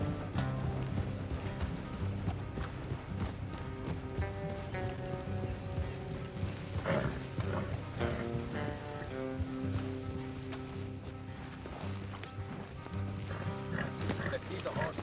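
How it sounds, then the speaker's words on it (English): Horses gallop in Red Dead Redemption 2, their hooves clip-clopping in a steady rhythm under in-game music, with characters talking over it. "Let's leave the horses here"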